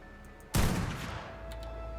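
A single loud sniper rifle shot in a video game, a sharp blast followed by a long decaying rumble, over low ambient hum, no speech.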